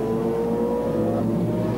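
A McLaren GT race car at the 1996 BPR Global GT Series round in Curitiba, Brazil, winds up its engine in a loud, steady, close drone, the pitch holding and then rising slightly toward the end.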